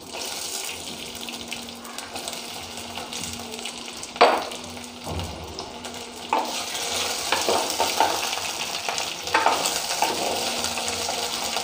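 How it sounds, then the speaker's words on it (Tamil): Okra sizzles gently in hot oil in a home kitchen. The frying is soft and constant, with occasional stirring knocks and a faint watery background, and no one speaks. "இது எண்ணெயில் கொஞ்சம் நல்லா வதங்கட்டும்."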